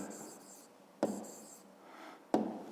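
A pen writes on paper during a maths exercise, with soft continuous scratching and two sharper taps, faint and close with no voices.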